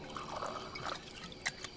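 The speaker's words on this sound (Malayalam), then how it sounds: "ഒന്ന് ഒഴിക്കട്ടെ" A drink is poured into a glass in a short, quiet trickle with a few soft liquid splashes and a faint clink near the end.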